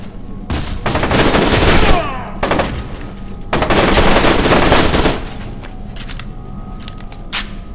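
Gunfire in the shooter game F.E.A.R. 2, loud bursts of rapid automatic fire in two long stretches with shorter shots and gaps between, close and dominant.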